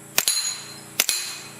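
Two suppressed .22LR pistol shots about a second apart, each a soft crack followed almost at once by a bright metallic ping as the round strikes a steel plate downrange, outdoors with no talking.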